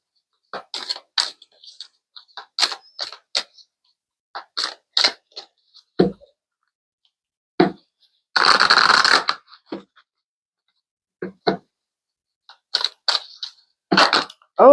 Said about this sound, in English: Okay, I'm going to pull some more cards.